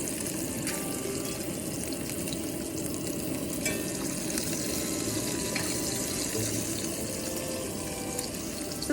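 Coffee boils on a camp stove, a steady, close hiss and bubbling rush that stays level throughout with no talk.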